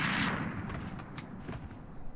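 A grenade goes off in an online multiplayer video game, a loud broadband blast at the very start that rolls off into a rumbling, decaying tail.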